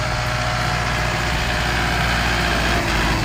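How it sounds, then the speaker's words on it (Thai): The diesel engine of a Kubota L4708 tractor idles loudly and steadily nearby, a constant low throbbing rumble with no pauses or changes in pace. "เสียงเครื่องเพาะดีนะครับคันนี้ เสียงเครื่องเพาะดี"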